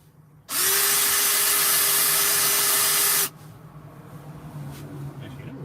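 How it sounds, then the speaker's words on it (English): A power drill bores screw holes in one loud, steady whir lasting about three seconds, starting and stopping abruptly, followed by quiet room noise. "I should actually drill the holes first."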